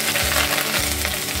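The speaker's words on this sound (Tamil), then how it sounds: "இப்போ எண்ணெய் காஞ்சது, கடுகு, கொஞ்சமாக வெந்தயம், கொஞ்சம் போல் சீரகம், கருவேப்பிலை" Mustard seeds, fenugreek, cumin and curry leaves tempering in hot sesame oil, a dense loud sizzle and crackle under a low steady hum, brief and close with no voices.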